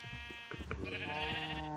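Sheep bleat on a farm in the video game Ducky, a few wavering calls overlapping with some clicks, faint and close with no talking.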